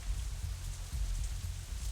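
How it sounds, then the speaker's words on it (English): Light drizzle in the Katawa Shoujo visual novel, a steady soft patter of rain with faint scattered drops over a low continuous hiss, no voices. "It's hardly even a drizzle now."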